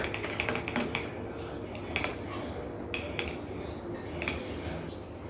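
Dalgona whipped coffee is mixed by hand with quick, repeated clinking and scraping of a utensil against its container, in close, busy bursts.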